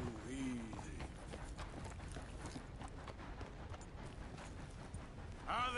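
Horse hooves clip-clop steadily at a walking pace in the video game Red Dead Redemption 2, fairly faint beneath in-game character dialogue.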